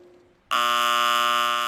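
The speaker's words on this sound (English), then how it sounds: "Consideration should be given to providing alarms on safety shower handles to automatically alert other personnel to the emergency." An emergency safety shower alarm at a hydrochloric acid handling area switches on suddenly after a near-silent moment, a loud, steady electronic buzz that holds without a break.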